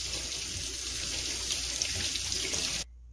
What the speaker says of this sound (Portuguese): Vou lavar as folhas em água corrente para assim retirar impurezas